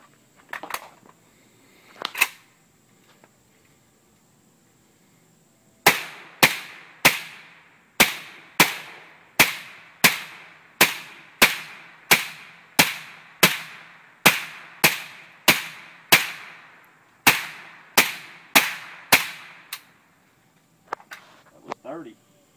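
An AK47 rifle fitted with a Mystic suppressor during a heat torture test, firing a long run of evenly spaced muffled shots at a steady pace after a couple of isolated shots, outdoors with talk before and after.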